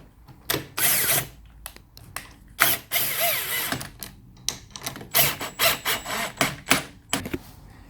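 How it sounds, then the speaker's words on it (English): Power tool tightening 10mm bolts during assembly of a 70cc ATV, a series of close, bursty mechanical whirring and ratcheting runs with short pauses between them, with no talking. "as soon as all of them are just finger tightened, you can tighten them all down"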